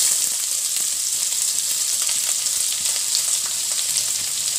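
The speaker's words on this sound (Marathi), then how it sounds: "त्यात आपला कढीपत्ता, त्याच्यानंतर कांदो घालूया." Curry leaves and onion hit hot oil in a pan for a Malvani green cowpea curry, giving a steady, bright sizzle and crackle that runs unbroken, close up and with no talking.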